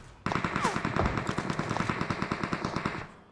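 Rapid automatic gunfire in the PUBG Mobile battle royale game, with a steady, dense string of sharp shots lasting about three seconds and fairly loud. An electronic tone briefly rises in the background.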